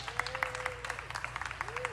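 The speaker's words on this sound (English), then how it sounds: "A big round of applause for Kendra." Applause from a crowd at the unveiling of the butter cow in the dairy building at a state fair, fairly faint clapping under a steady background hum with voices talking over it.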